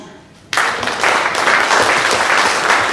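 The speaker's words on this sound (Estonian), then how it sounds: "Siis aplaus." Audience applause after a talk on fish, starting abruptly after a brief quiet moment and continuing as steady, dense clapping from a full room.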